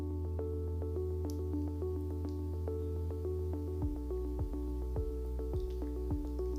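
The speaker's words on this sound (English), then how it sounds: "Now I am adding about 1/2 cup of water along with 2 cans of coconut milk" Water and canned coconut milk poured into an Instant Pot give off a soft, steady trickle with light drips and squishy liquid sounds, close and quiet, with no talk over it.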